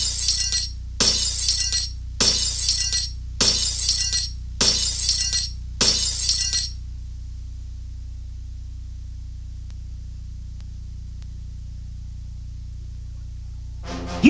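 Gunshots shatter glass bottles in the Western shooting video game Mad Dog McCree: six loud, evenly spaced bursts of breaking glass, then near silence with a faint hum.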